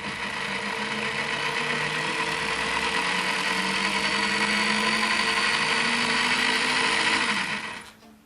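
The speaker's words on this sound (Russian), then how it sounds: "Видно, что двигатель набирает обороты плавно" A universal brushed motor driven by a TDA1085C speed controller runs steadily at high speed, a loud continuous whine with a few humming tones, then spins down and fades out at the end.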